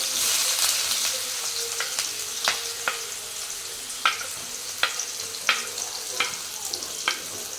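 Onion sizzling in hot oil with whole spices for a Rayalaseema mutton blood dish, a steady bright crackle punctuated by sharp popping spatters, close and alone with no voices.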